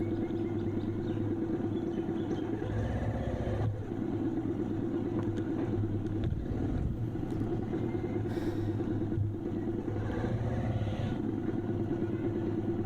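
A motorcycle engine rumbles steadily for several seconds while riding, with a continuous low drone and some rattling before the bike comes to a stop.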